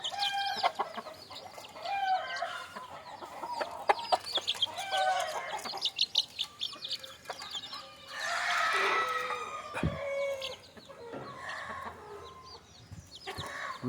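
Native country chickens and a rooster at evening roosting time: busy clucking and squawks, with a loud rooster crow rising in the middle, all close and lively with no talking.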